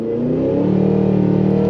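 A 2023 Cadillac Escalade V launches hard using launch control, its engine roaring loud and close with a steady, building drone.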